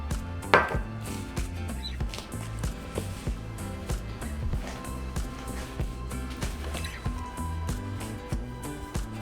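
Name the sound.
mixing shortening into flour by hand for sopapillas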